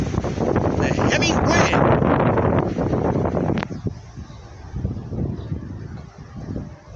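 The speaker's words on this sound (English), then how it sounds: "The heavy wind. There you have it." Heavy outdoor wind buffeting the microphone, a loud rumbling roar with gusty surges that eases somewhat partway through, continuing without pause and with no clear talking.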